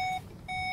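Ignition-on warning chime in a 2018/19 VW Golf GT, two steady electronic beep tones sounding near and clear, separated by a brief gap inside the quiet cabin.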